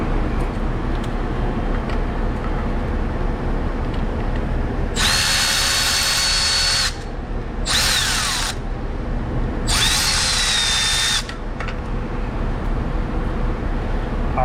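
A power tool whirs in three short bursts, the first and last lasting about two seconds and the middle one briefer, while it removes the fuel pump bolts on a 1957 Ford Thunderbird. A steady mechanical background hum continues underneath.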